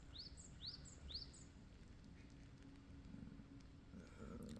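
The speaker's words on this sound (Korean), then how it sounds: "아침이 지금 7시라 새소리도 들리죠?" Small birds chirp in a morning vegetable garden with two or three quick, faint, high calls early on, then softer scattered tweets over a low steady background hum.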